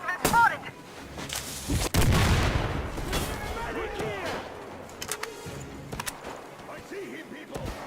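Gunfire and booming blasts in the video game Metro Exodus, with a loud burst near the start and heavy thuds around two seconds, scattered shots continuing under shouted voices throughout.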